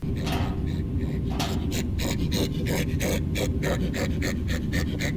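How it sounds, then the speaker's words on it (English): An unseen enemy in a horror video game pants heavily behind a doorway, a rhythmic, breathy huffing repeating steadily over a constant low ambient drone. "you hear this weird panting behind a doorway"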